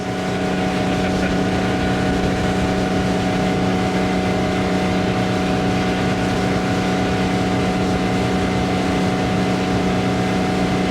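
A 1973 Cobalt boat's inboard engine running steadily at 3,500 RPM on the water, with a marine trim system and an over-sized propeller: a loud, constant droning hum with strong tonal pitch and wind and water rush, no talking.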